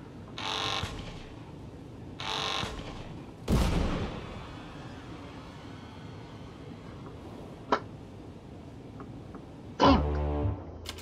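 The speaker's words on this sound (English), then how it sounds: "Let me shoot the guy!" Gunshots in the video game Papers Please, a few sharp isolated cracks spread over the clip: a louder blast near the middle, a faint later pop, and a final report among short electronic tones.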